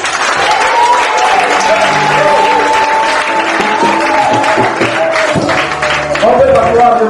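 A church congregation at a Sunday service breaks into loud, sustained applause that fills the room steadily from start to finish, with voices and music faintly mixed underneath.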